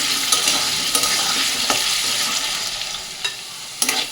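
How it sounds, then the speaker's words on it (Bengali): Potatoes fry in oil in a wok with bay leaf and cumin seeds, giving a steady close sizzle broken every second or so by sharp scrapes and clinks of a spatula stirring; no one talks. "আলুটা একটু লাল লাল করে ভাজা ভাজা করে নেবো"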